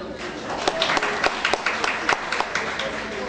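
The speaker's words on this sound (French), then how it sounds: "Que les informaticiens applaudissent." Scattered applause from an audience at a live stage show, with sharp individual claps that are moderately loud and come at an uneven rhythm for a few seconds.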